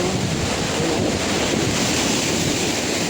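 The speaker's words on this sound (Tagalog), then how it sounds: "lampas-lampas sa seawall ang alon" Heavy typhoon surf roars continuously with strong wind buffeting the microphone, a loud, unbroken wash of crashing waves washing over a seawall in Lavezares, Samar.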